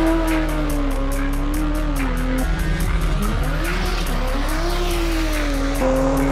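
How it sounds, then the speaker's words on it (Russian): Cars rev their engines on a drag race start line, among them a BMW and a Toyota Cresta. The loud, sustained engine roar has wavering pitch and tire squeal, and an announcer's voice runs faintly underneath. "Уже раздувается Максим, поднимает обороты."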